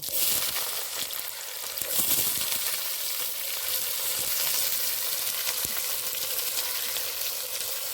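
Whole garam masala, cumin seeds and chopped onion fry in goat fat, giving a steady, close sizzle broken by crackles and pops as they are stirred.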